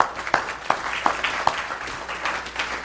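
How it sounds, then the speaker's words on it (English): A convention audience applauding at a hypnotism training event, a dense steady wash of clapping with a few sharper individual claps standing out, sustained throughout at moderate loudness. "Give them a round of applause, everybody."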